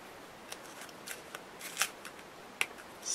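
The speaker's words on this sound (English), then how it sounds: "So just snip off the rest here of the thread" Scissors snip off leftover thread while a handmade birthday easel card is being finished, a handful of quiet, crisp cuts scattered among soft paper handling, with no talking.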